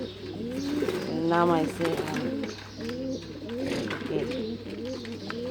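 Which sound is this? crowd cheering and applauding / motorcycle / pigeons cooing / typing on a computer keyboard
pigeons cooing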